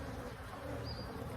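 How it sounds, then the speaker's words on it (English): Honeybees swarm thickly over the top of the frames while hive 2 is open for inspection, making a steady close buzzing drone that fills the whole moment with no voices. "Look how many bees are on top right there."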